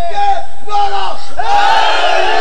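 A large crowd at a Shia religious gathering roars a slogan in unison, loud and close, rising in repeated surging shouts that swell into sustained collective cheering.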